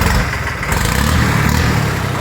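New Holland tractor diesel engine fitted with a modified sporty silencer, running with a steady, loud, close throbbing exhaust note, with no talk over it.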